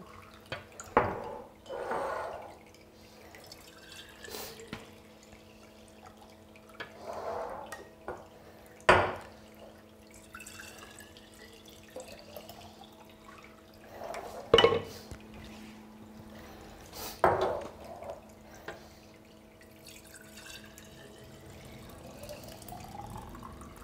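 Celery juice drips and trickles from a small Goodnature Hummingbird prototype juice press, with intermittent splashy pours and drips over a faint background hum, no speech.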